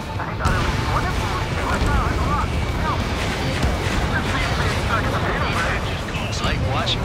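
Explosions of burning oil in the combat flight game Ace Combat 7, a dense continuous roar of booms and rumbling blasts, loud throughout with no breaks.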